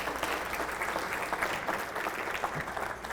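An audience at a Hall of Fame induction ceremony breaks into sustained applause, dense clapping filling the room evenly from start to finish.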